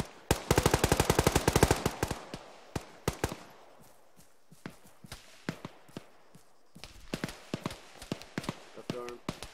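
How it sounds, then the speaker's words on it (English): Automatic weapon fire in a military realism video game, a rapid burst up front giving way to scattered single shots and short volleys, loud and close with more rounds popping at a distance. "Taking fire from the north as well."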